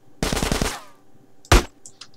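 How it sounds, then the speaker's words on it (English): A quick burst of four or five loud Desert Eagle gunshots in GTA San Andreas, a pause, then one sharp, booming shot, close and punchy. "The thing I like about the Desert Eagle gun is that the shot is very powerful"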